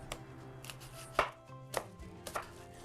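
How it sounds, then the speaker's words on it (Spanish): A knife dices a small onion on a cutting board, with a handful of sharp, spaced thuds and light board taps up close against a quiet background. "Dice 1 small onion"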